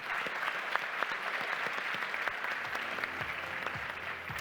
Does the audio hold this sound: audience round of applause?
yes